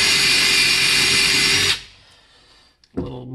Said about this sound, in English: This is going to need to be drilled out a little bit.